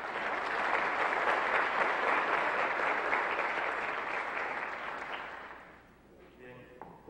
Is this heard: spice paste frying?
no